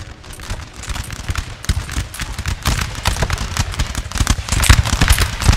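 Massed musket volleys from infantry ranks in a Napoleon: Total War battle, a dense crackling fusillade of overlapping shots that builds and stays loud and continuous throughout.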